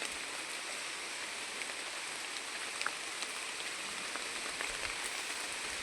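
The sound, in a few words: rain falling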